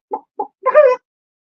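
Chickens being fed grub treats, heard as two short clucks followed by a longer squawking call, close and clear with no talk.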